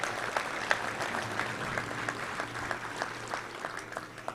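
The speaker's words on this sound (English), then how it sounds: "So let's give a round of applause for those 3 MVPs." Audience at a Little Rock touchdown club luncheon claps for three MVPs, a dense, steady round of applause from a room full of people, holding at an even level for the whole stretch.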